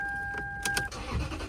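A 2000 Toyota Celsior with a VIP-style build and aftermarket exhaust starts up and settles into a soft idle. A couple of brief mechanical clicks and a steady electronic tone come before the engine catches, quiet and close, with no talking.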